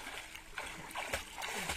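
Soft, irregular water splashes come from someone swimming near a bathing spot on a hot day, faint and close, a few sloshing bursts in quick succession.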